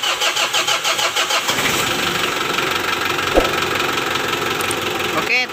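A car engine cranks over with a rhythmic starter churn for about a second and a half, then catches and settles into a steady, fairly loud idle, checked during work on an oil pressure warning light.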